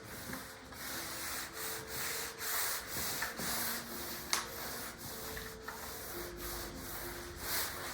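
Trowel pressing and rubbing an uncoupling membrane down into tile mortar, a steady scraping and smoothing sound in repeated strokes, close and moderately loud, with no talking.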